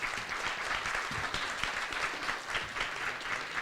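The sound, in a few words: audience applause at end of forum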